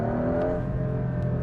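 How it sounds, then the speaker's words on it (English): A Porsche 911 GTS T-Hybrid's engine hums loud and steady, with a single turbo and a brief blow-off valve hiss, close and without talk. "The blow-off valve noise with the turbo, single turbo sound."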